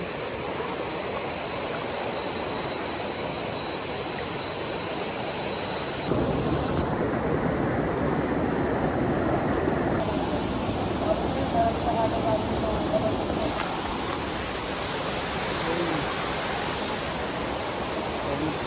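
Gabaldon Falls pours in a constant broadband roar, loud and close throughout, with people talking over the rushing water.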